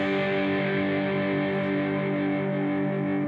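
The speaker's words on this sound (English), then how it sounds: "this chord is known as a G5 open position power chord" A distorted electric guitar rings out a G5 open-position power chord, the bottom four strings struck once and left sustaining loud and close for about three seconds before being cut off.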